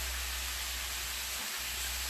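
Cabbage steams in a pan with a little bouillon water, giving a soft, steady hiss that stays even throughout and sounds fairly faint.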